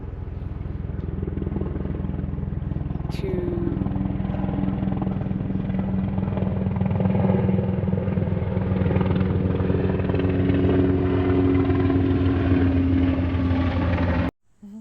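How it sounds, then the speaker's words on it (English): A helicopter roars steadily and close, its rotor thumping continuously for the whole stretch before cutting off abruptly at the end. "there's a helicopter."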